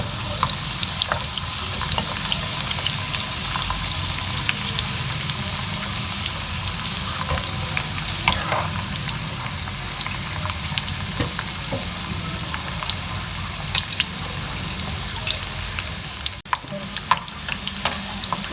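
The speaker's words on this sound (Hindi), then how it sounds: "ये जो मैंने 1 अदद प्याज बारीक काट के रखी हुई थी, वो तल लेंगे" Finely chopped onion fries in oil for a Kashmiri-style beef yakhni pulao, giving a continuous, even crackling sizzle close by with small pops throughout and no talking.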